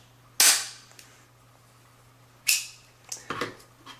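Two sharp, loud snapping cracks about two seconds apart as a SIM card punch cuts a SIM card down to micro SIM, followed by a cluster of quicker smaller clicks and clunks, set against a faint steady hum.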